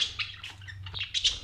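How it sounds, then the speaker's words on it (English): Pet parrots at a house chirp and squawk in quick, bright bursts, several calls overlapping at moderate distance with no talking. "these are my parrots"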